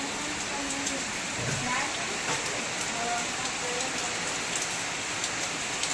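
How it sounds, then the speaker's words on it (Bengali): Steady morning rain falls outside, a dense even patter on surfaces. It continues unbroken and fairly loud the whole time. "আর ওই যে বাইরে বৃষ্টি পড়ছে।"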